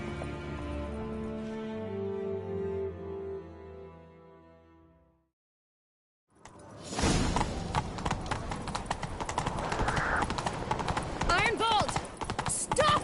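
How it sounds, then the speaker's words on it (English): Hooves of a horse galloping in The Witcher 3, a steady rapid clip-clop loud and close after a short silence, with music and game sounds mixed in. "Grab a horse, we'll chase him down"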